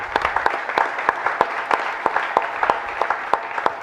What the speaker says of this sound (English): round of applause to the sponsors